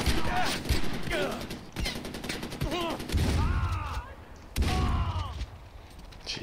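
Gunfire in Far Cry 4 on the Xbox 360, with repeated bursts of shots and heavy booms rolling through the scene while a player shouts and talks over the action.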